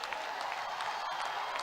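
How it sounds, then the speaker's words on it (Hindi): An audience applauds a hockey player, Olympic goal scorer Simranjeet Singh, in a brief, faint, steady wash of clapping heard from a distance. "जोरदार तालियां"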